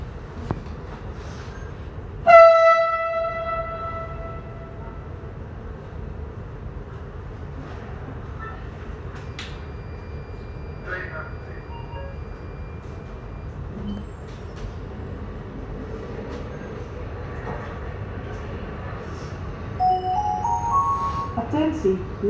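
An Amsterdam metro train on line 52, the North–South line, rolling along with a steady low rumble heard from inside the car, a brief chime-like tone early on and a voice speaking over the ride.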